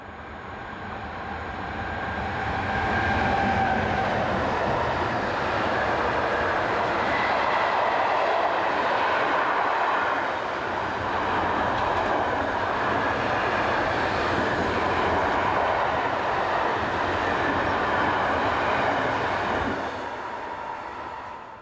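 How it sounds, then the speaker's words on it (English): A Swiss Class 482 electric locomotive hauls a northbound intermodal freight train past, its heavy rolling rumble and wagon clatter building, holding steady for many seconds, then easing off, with no voices. "Swiss Class 482 electric locomotive number 482014, seen on this northbound intermodal working"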